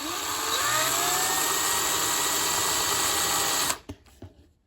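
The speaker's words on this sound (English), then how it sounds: "So what we're going to do is countersink these a little" A power drill countersinking holes in a Dinky Jaguar toy car, a steady high whirring that stays loud and even for a few seconds, then stops abruptly with a couple of small clicks and knocks.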